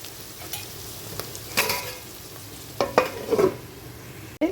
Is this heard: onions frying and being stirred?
yes